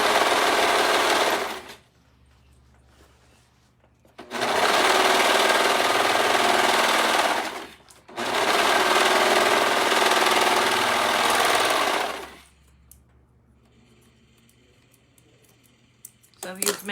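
A sewing machine runs in three long, loud bursts while sewing the last seam of a simple skirt, with quiet gaps between runs and a soft closing stretch near the end.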